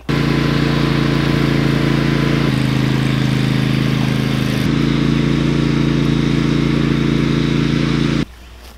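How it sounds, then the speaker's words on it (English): A lawnmower engine runs in a long, skinny farm paddock with a loud, steady droning roar close by. Its pitch shifts slightly a couple of times, then the noise drops sharply near the end. "I'm going to go grab the lawnmower."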